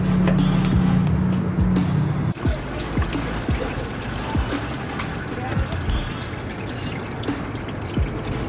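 Leftover CVT fluid from a 2013-2019 Nissan Sentra streams and trickles steadily out of a tilted transmission oil pan, a continuous close pour that thins into scattered drips partway through.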